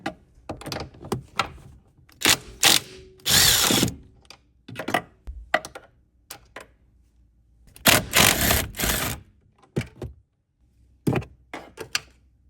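Power tool or ratchet work on the 14 mm upper strut bolts of a 2002-06 Honda CR-V, heard as loud, close bursts of mechanical whirring separated by brief pauses, with no talking.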